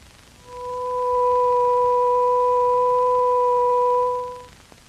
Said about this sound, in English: To this fundamental, we will now add the second harmonic.